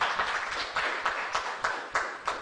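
An audience at a national dialogue claps for itself, a brief burst of scattered hand claps with a few sharper accented hits, fairly close and without voices.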